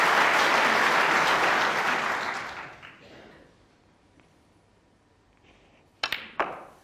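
Loud applause from a packed Crucible Theatre crowd at a snooker World Championship semi-final, John Higgins against Barry Hawkins, sustained for about two seconds and then fading to a quiet hall, followed by a couple of sharp knocks near the end.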